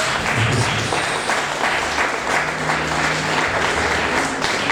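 A church congregation breaks into loud, sustained applause, dense overlapping clapping that stays steady throughout with no voices over it.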